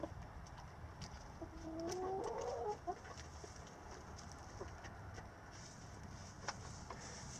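Hens cluck and call nearby, including a Rhode Island Red and black sex-link birds, with one clear rising call standing out over a steady hum of the flock.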